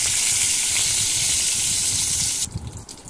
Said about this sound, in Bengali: সামান্য লবণ দিয়ে পটলগুলো নাড়াচাড়া করে ভালো করে ভেজে নিচ্ছি।